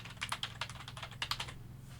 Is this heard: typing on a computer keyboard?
yes